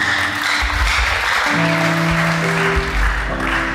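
A congregation at a church service claps loudly and steadily, while sustained organ or keyboard tones play underneath the applause.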